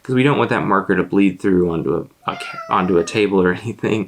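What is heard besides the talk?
cat meowing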